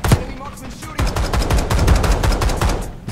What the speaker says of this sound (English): This is semi-auto, by the way.